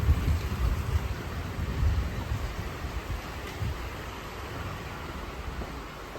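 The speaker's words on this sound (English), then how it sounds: "Thunder and lightning here at Pulborough Station." Heavy rain falls steadily at a railway station in a thunderstorm, a dense hiss with low rumbling thunder swelling near the start and fading to a softer continuous downpour.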